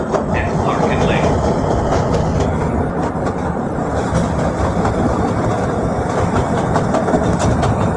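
A Roblox CTA Brown Line 3200-series subway train at Clark and Lake rumbles steadily with rattling wheels and clatter, loud and continuous, with faint voices under the noise.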